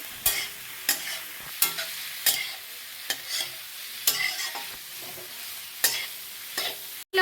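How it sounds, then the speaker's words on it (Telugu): Cabbage and mixed vegetables stir-frying for veg noodles, with repeated sharp scraping strokes of a spatula in the pan about every second over a steady close sizzle, and no voices. "బాగా వేయించాలి."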